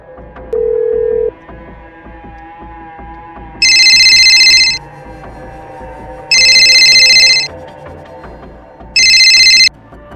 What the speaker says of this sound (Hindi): फोन लग रहा है।